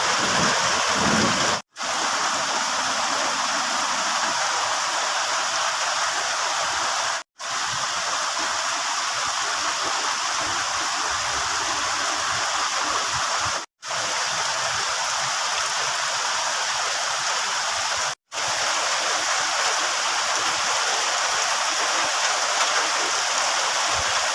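Steady rain pouring down continuously during the rainy season in the countryside, a dense even hiss with no voices, broken only by a few sudden brief gaps.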